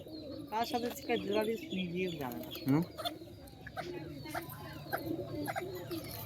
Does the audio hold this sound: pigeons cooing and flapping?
yes